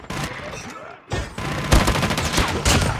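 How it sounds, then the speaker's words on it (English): Automatic sentry gun firing in a Call of Duty match, a dense rapid rattle of gunfire close by that cuts out briefly then resumes in sustained bursts. "Sentry gun deployed."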